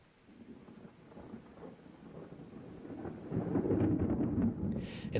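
A London thunderstorm rolls in as a sound effect, with low rumbling thunder swelling and growing louder over a hiss of rain, ending in a brief heavier burst.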